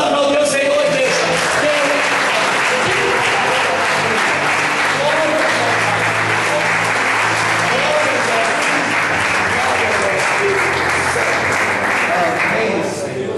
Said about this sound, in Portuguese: Vamos aplaudir o Senhor, igreja.